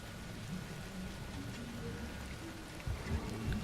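Steady rain falling in the African wilderness of the video game Ancestors, a constant hissing wash with low rumbling underneath, continuous and moderately loud with a few heavier thumps near the end.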